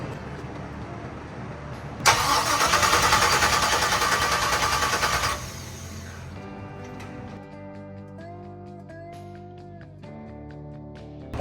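The starter of a 1957 Chevy engine cranks in one steady, loud grinding burst lasting about three seconds without catching, then a quieter whirring and ticking continues afterward.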